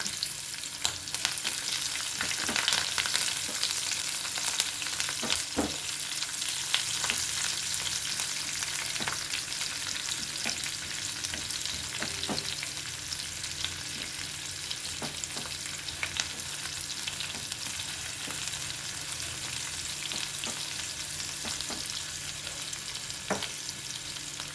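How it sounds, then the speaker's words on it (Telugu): Onions, curry leaves and green chilies frying in oil for vegetable semiya, a constant close sizzle carrying on throughout with occasional light spatula clicks against the pan. "మరీ బ్రౌన్గా వేగక్కర్లేదు, ట్రాన్స్పరెంట్గా వేగితే సరిపోతాయి"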